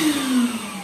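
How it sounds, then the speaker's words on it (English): A DeWalt DWV010 dust extractor vacuum switches on, and its motor whine starts up strongly and settles into a steady, close hum during a brief burst of sound. "and turn on the vacuum"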